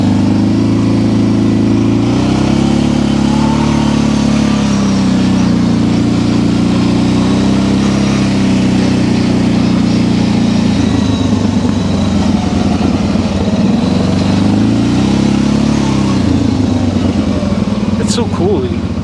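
An ATV engine drones loud and close for the whole stretch while riding a woods trail in Upstate New York, its pitch rising and falling with the throttle.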